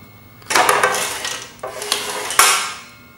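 Evolution Rage 2 chop saw arm being raised and lowered, giving three rough metallic clanking and rattling bursts close up, each a second or so long, with no motor running.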